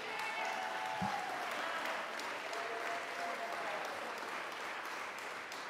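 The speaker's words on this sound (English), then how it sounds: "One more round of applause for Chris." Audience applause for Chris at the Mayor's Arts Awards ceremony, a steady sustained round of clapping from a crowd throughout.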